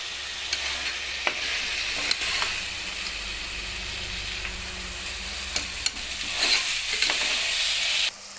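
Fresh green peas fry in a pan with steady sizzling, and a spoon stirs and scrapes now and then, with no voices.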